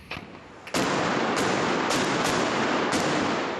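A burst of loud gunfire at an airport cargo terminal sets off a dense, roaring barrage of shots that keeps going without a break.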